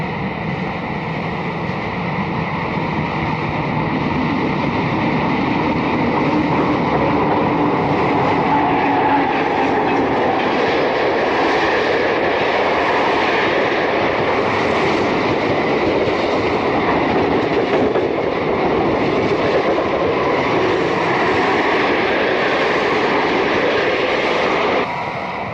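Erie Lackawanna electric multiple-unit commuter trains pass by in a steady, loud rumble with a continuous rolling roar and faint clatter of wheels on rail, sustained throughout with no pauses.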